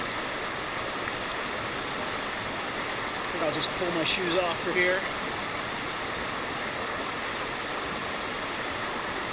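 A steady rush of Franconia Brook flowing fills the background while someone speaks briefly over it.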